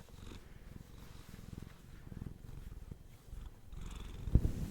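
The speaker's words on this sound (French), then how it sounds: "Le ronron est très très léger. Nous sommes sur un ronron extrêmement léger." A cat purrs very softly, a faint, close rhythmic rumble of steady pulses in a quiet ASMR setting, with a small bump of handling noise near the end.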